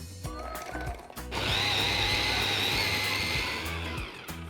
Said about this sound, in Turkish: Önce domates ve cevizi çekelim.